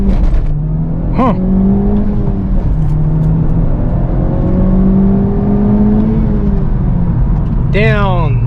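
An E85-fuelled G37 car accelerates and shifts gears from inside the cabin, with a loud, close engine drone and rising rev sweeps near the start and end.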